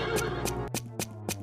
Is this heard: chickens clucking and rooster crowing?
no